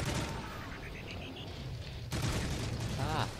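Gunfire in the video game Modern Warfare 3, a steady run of shots in a multiplayer match with a louder burst near the end.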